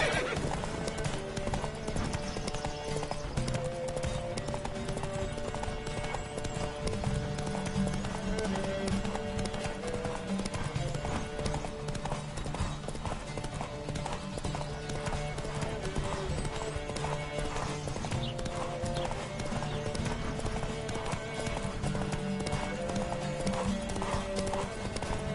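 A horse galloping in the video game The Witcher 3: Wild Hunt, steady fast clip-clop hoofbeats with occasional whinnies, continuous and close under game music and brief speech.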